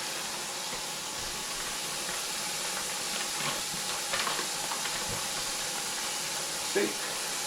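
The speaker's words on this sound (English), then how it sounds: "We're just going to rinse this bag out so it's a little nicer than the garbage." A plastic meat bag rinsed out under running water in a sink at a homestead barbecue, a steady hissing stream with faint crinkles and splashes, fairly close.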